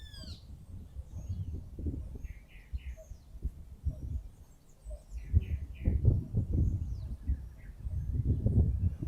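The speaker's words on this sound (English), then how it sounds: "And you can hear the birds." Birds chirp in short, high repeated calls in the distance, heard over a low rumbling background of wind or handling noise.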